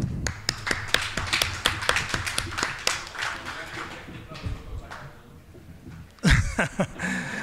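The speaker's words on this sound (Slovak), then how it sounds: "si myslím, že si zaslúžia potlesk" Scattered handclaps from an audience at a town meeting with citizens in Galanta, Slovakia, sparse and irregular for about three seconds amid murmuring voices, then trailing off before a louder burst of noise near the end.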